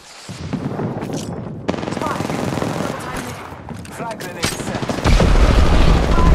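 Rapid bursts of automatic gunfire and sharp shots crackle through a tactical shooter game firefight, loud and continuous, with a heavier rumbling barrage swelling near the end.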